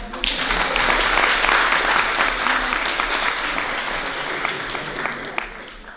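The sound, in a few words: audience applause vote for Martha's anecdote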